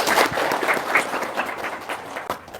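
A room of listeners claps in response at a religious talk, a brief burst of close, uneven hand-clapping that is loudest at the start and then thins toward the end.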